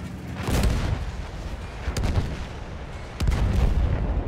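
Artillery guns firing in the World War I video game Battlefield 1, with booming shots at irregular intervals over a continuous rumbling battlefield din.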